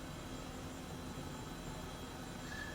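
Airbus H135 helicopter in Microsoft Flight Simulator, flying over Los Angeles: a steady, even rotor and turbine drone held at a constant level throughout, with no voices.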